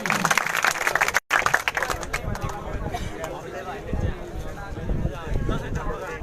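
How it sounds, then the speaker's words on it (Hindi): Audience applause at a motivational prize-giving event for defence academy students, loud and continuous clapping with crowd noise throughout, briefly cut off near the start, with voices mixed in. "जोरदार तालियां इनके लिए।"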